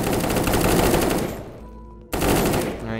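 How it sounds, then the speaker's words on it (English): Dense automatic gunfire from several weapons in the survival shooter game Unturned, a rapid sustained rattle that briefly drops away to near quiet, then bursts back in at full loudness. "Everybody's shooting."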